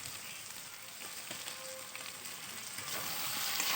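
Fish curry with tomato and fish curry spice mix sizzling steadily in a pan as it is sautéed, a soft continuous frying hiss that grows slightly louder toward the end, with faint stirring scrapes.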